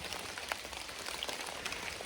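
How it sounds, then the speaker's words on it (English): Rain patters steadily on surfaces at a deer camp, a dense, even wash of droplets with occasional louder taps, and no voices. "it's raining, but it's not freezing cold"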